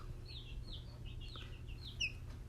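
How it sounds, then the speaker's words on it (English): A Buff Orpington baby chick, two to three weeks old, gives a series of high, thin peeps, about half a dozen quick downward chirps over a low, steady background hum. "So I told Adriana, let's get you another Buff Orpington"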